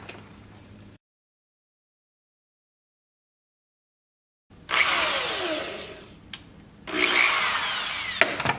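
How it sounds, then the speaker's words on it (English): Cordless drill with a 5/64 bit boring a pilot hole into hardwood, two sustained whirring bursts with a short pause between, loud and close, after a silent gap. "I have a drill right here with a 5/64 drill bit. So we're going to go ahead and use this and drill into our piece of wood"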